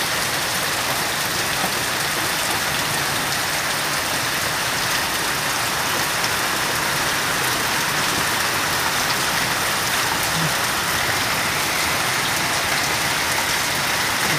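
Heavy typhoon rain in the Philippines pours down steadily in a dense, unbroken hiss, loud and constant throughout with no pauses.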